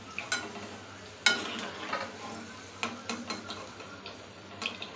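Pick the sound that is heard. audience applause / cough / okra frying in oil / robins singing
okra frying in oil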